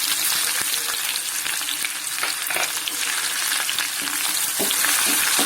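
Mustard seeds, about one and a half spoonfuls, spluttering in hot oil in a pan while a Palakkad-style masala curry is cooked, giving a steady close crackle scattered with sharp pops, with no voices.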